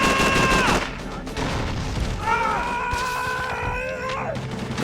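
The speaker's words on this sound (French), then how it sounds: "Toi tu me tires à travers le mur." Rapid bursts of gunfire with crashing impacts from the Call of Duty 3 video game, loud and dense through the whole stretch, with harsh ringing tones layered over the shooting.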